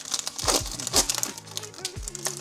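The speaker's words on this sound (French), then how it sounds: "Pourquoi je n'arrive plus à ouvrir le booster?" A trading card booster pack wrapper is torn and crinkled open, with sharp foil crackles and rips in quick bursts, loud and close.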